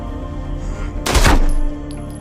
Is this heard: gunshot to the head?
yes